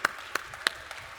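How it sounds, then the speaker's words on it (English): An audience at a crypto panel event gives brief, faint applause for the moderator, a few scattered claps from a distance rather than a full ovation. "Guys, let's give her a round of applause,"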